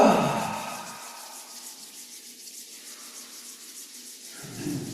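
Palms rubbed briskly together during a qigong routine give a soft, close swishing friction that swells at the start, fades through the middle and picks up again at the end, with no talking.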